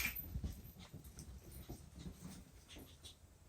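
Mauzer puppies six and a half weeks old play together, giving soft whimpers, small yips and scuffling sounds, faint and fairly close in a quiet room.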